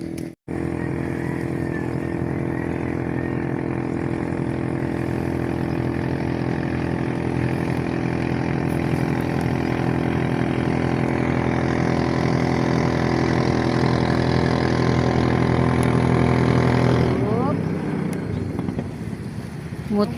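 A boat motor runs at sea, loud and steady for most of the stretch, then shifts pitch and sputters near the end.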